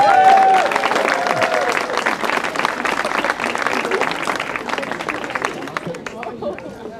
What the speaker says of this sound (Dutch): mag ik een applaus voor Kevin van Druten